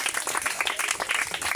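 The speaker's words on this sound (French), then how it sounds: "Applaudissez pour lui." Children at a school celebration for International Children's Day applaud in a brief, lively burst of dense, close clapping.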